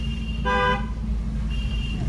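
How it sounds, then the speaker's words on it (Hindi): A single short, loud car horn toot sounds once, then a fainter tone follows, over steady road and engine noise in traffic on a single-lane road. "ये हॉर्न है, काफ़ी तेज़ हॉर्न है"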